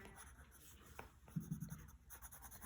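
Colored pencil scratches across paper in short shading strokes, soft and close, with a few brief taps and scrapes amid quiet room noise.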